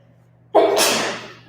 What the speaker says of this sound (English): You made me want to sneeze.